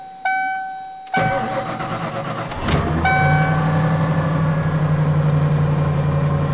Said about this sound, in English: let's go ahead and crank her over